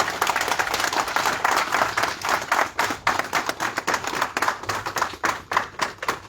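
An audience at a Brussels press conference applauds Monseigneur Kodjo, with dense sustained hand clapping that thins into scattered, irregular claps toward the end.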